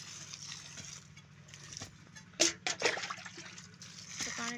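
Water splashed by hand onto garden soil around plants outdoors, a few quick wet splashes and trickles in a short burst midway, over a low background hum, with no talk.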